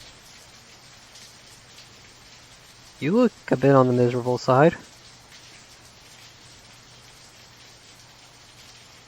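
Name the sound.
rain in the video game Angels with Scaly Wings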